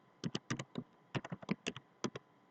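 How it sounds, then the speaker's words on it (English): Keystrokes clatter on a computer keyboard in two quick bursts of rapid, uneven taps, close and fairly quiet, with no voices. "So let me type my excellent here."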